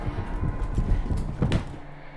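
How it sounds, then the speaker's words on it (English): A galloping horse in The Suicide of Rachel Foster, with muffled, soft hoofbeats thudding in an uneven rhythm close by, the steps fading toward the end. "Galloping horse?"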